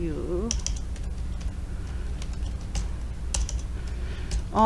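Typing on a computer keyboard, with a steady run of close key clicks and taps at an irregular rhythm under a low background hum, and a voice heard briefly at the start and end.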